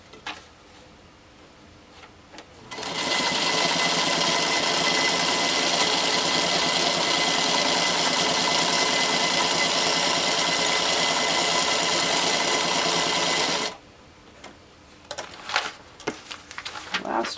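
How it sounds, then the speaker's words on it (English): A featherweight sewing machine set to 20 stitches per inch runs in one steady, loud continuous burst of about eleven seconds, its rapid mechanical whir and ticking filling the middle, with quieter handling clicks before and after. "I have this little featherweight machine set on 20 stitches per inch."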